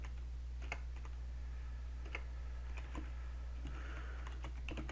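Keys clatter on a computer keyboard as a command is typed, a sparse run of light taps over a steady low hum, close and without talk.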